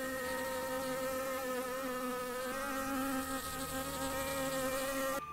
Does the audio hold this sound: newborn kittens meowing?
no